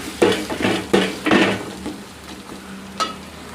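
Onions frying in a pan being stirred until brown, a few scraping strokes of a spoon against the pan over a soft sizzle, close up with no voices.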